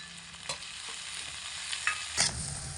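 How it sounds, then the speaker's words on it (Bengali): Cabbage, onion and garlic are stir-fried in a pan over low to medium heat, with a continuous close sizzle broken by a few sharp scrapes and clinks of stirring. "এভাবে করে লো টু মিডিয়াম আঁচে রেখে 5 থেকে 6 মিনিট মতো নাড়াচাড়া করে ভেজে নিয়েছি"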